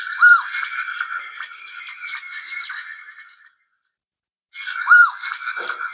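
Star Trek communicator toy electronic sound effect, a bright warbling chirp with a buzzy trill, played twice close up and separated by a second of silence.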